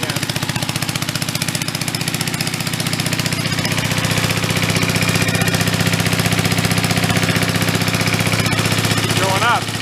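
Abandoned vintage Mite-e-Lite generator engine running at about 2,500 RPM, a loud, steady, rapid chugging drone that holds throughout, close by, with a voice speaking briefly over it.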